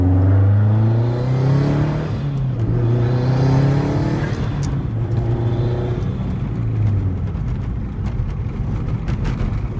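A modified 2004 Subaru STI engine revs hard and climbs through the gears, each pull rising in pitch before dropping at the shift, loud and close throughout.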